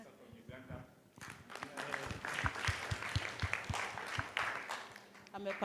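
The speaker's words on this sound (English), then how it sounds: "A big clap from our sister from Uganda." Clapping swells after a quiet opening, as a cardiac symposium audience applauds a delegate from Uganda; the applause continues steadily, with a few voices mixed in.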